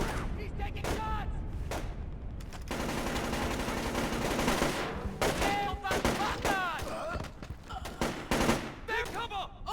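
Sustained automatic gunfire and bursts of shots in the stealth action video game Splinter Cell: Chaos Theory (2005), loud and dense for several seconds with shouted voices mixed in.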